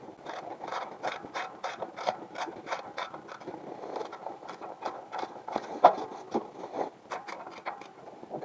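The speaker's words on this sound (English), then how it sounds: "Should really have a proper ratchet for this." A hand ratchet clicks in quick repeated bursts during clutch replacement on a Case International 585 tractor, its sharp ticks close and steady with brief pauses between strokes, alone without talk.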